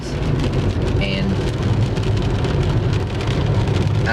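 Steady, loud rain pours down during a springtime thunderstorm, a dense continuous wash with a brief tonal chirp partway through and no break in the downpour.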